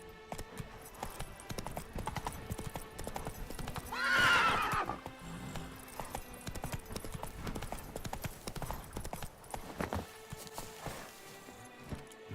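In The Witcher 3: Wild Hunt, the horse Roach clip-clops in a steady hoof rhythm with a sharp neigh partway through, moderately near, amid game ambience.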